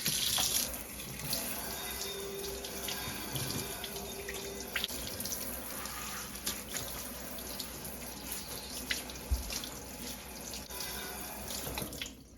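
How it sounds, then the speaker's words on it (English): Running tap water splashes steadily over a cymbal being rinsed, a continuous hiss with occasional drips and metallic knocks, close and fairly quiet. "Now we just need to rinse this off."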